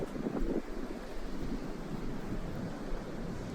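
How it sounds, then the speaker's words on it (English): Wind buffets a microphone outdoors on the Cornish coast, giving a steady, close rumbling roar with a few stronger gusts and no voices. "I'm fighting against the wind a little bit"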